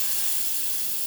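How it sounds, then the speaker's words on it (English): Steam hisses from the steam wand of a La Pavoni lever espresso machine, a steady, loud, close rush of air without pause for about a second. "Test the steam."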